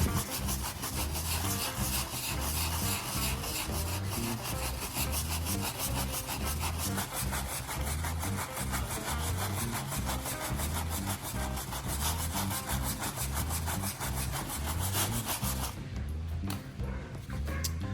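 A cleaning product is rubbed into a surface by hand, a continuous rhythmic scrubbing and rasping at close range that goes on without pause, with no voices.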